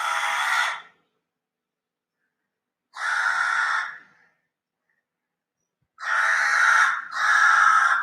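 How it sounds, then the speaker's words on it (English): A crow cawing in the evening, loud and close, with three harsh calls spaced by silence and the last a quick double caw. "That is the crow which comes in the evening and asks for water."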